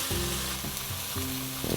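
Salmon frying in a pan sizzles loudly and evenly, with low tonal hum and a few soft bumps as it is turned, close up and without speech.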